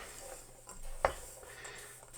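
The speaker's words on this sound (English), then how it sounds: "And I'll give that a quick mix" Sultanas tossed through flour in a bowl for spotted dick pudding, soft rustling stirs and one sharp utensil clink against the bowl, quiet and close.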